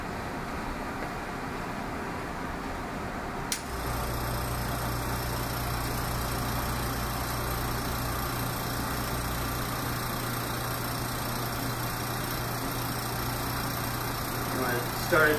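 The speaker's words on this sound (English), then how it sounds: "We have an oilless pump here, so we don't have to worry about vapors from our heptane damaging the pump." An oilless vacuum pump starts abruptly and settles into a steady, droning hum as it evacuates a heptane vapor-pressure lab apparatus, running continuously under faint background noise.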